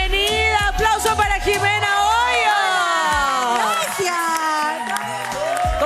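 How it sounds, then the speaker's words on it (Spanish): Studio audience on a Latin television variety show cheers and claps to welcome guest Jimena Hoyos, a loud sustained burst of crowd noise with whoops, overlaid by music and a host's voice throughout. "Bienvenida, aplauso para Jimena Hoyos"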